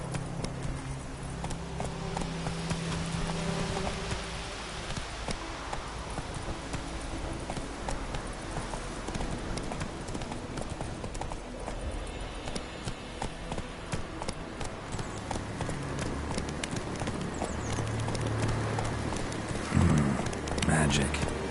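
Horse hooves pound rhythmically at a gallop in The Witcher 3: Wild Hunt, a continuous clip-clop beat running under game ambience and a voice talking throughout.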